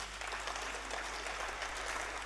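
Conference audience clapping, a faint, even wash of applause from a distance, steady for a couple of seconds over a low hum, no voices.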